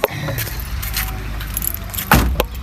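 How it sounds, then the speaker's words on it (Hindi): Car keys jangle as they are drawn out of the ignition of a parked car, a close metallic clinking over a low engine or cabin rumble, with a louder rattle near the end. "अब ये चाबी निकालते हुए"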